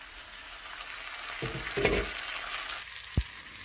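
Crushed garlic goes into a pan of frying potatoes, setting off a steady sizzle with a louder burst of frying near the middle and a short knock toward the end.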